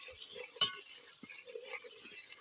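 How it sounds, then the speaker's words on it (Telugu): Ginger garlic paste being stirred into food cooking in a pan, a soft scraping with a sharp clink of the spoon against the metal near the start over a faint sizzle. "ఇప్పుడైతే మంచిగా మిక్స్ చేసుకోవాలి"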